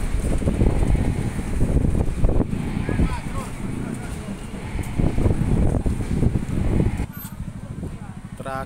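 Tornado-strength wind tearing through an outdoor bonsai exhibition in Tulungagung, a steady roaring rush with buffeting gusts close to the mic and voices shouting over it. The roar eases near the end.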